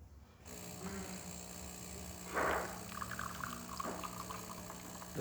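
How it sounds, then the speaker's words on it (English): A DeLonghi Eletta espresso machine brews a standard coffee as a test after a full service and tune-up, giving a steady pump hum under a wet hiss of running liquid, with a louder gurgling spurt partway through. "we're just going to brew a normal standard coffee"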